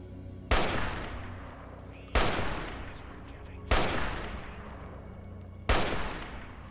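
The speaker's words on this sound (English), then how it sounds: "He actually fired at me." Four loud single gunshots ring out in Fallout: New Vegas, during the Old World Blues add-on, spaced roughly a second and a half apart, each with a sharp crack and a long echoing tail.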